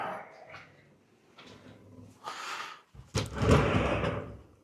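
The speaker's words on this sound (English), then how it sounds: "Sliding door." A hotel room sliding door rolls along its track with a few soft scrapes and thuds, ending in a louder rumble and bump as it opens or closes nearby.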